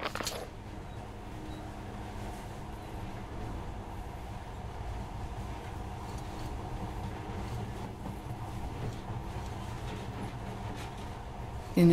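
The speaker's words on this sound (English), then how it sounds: "now, this monorail seems magic, doesn't it?" A monorail in the video game Metro: Last Light runs with a steady, low, continuous rumble, unbroken for the whole stretch.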